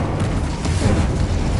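A fire spell cast in Hogwarts Legacy, rendered as a dense, continuous low rumbling roar with a whooshing burst that stays loud and steady throughout, no talking over it.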